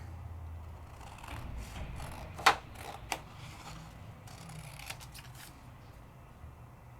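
Scissors trimming paper for a craft project, with two or three quick, faint snips in a quiet room.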